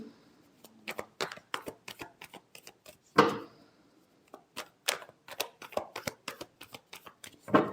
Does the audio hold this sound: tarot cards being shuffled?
yes